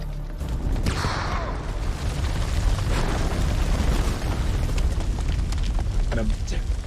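A grenade going off in The Dark Pictures: House of Ashes, a loud, heavy blast that settles into a dense, sustained low rumble, with voices mixed into the din.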